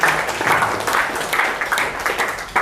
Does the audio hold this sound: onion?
no